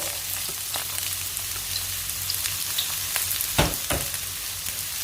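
Onions sautéing in hot oil in a pan give a steady, close sizzling hiss throughout, with a few sharper crackles and pops near the end and no voices.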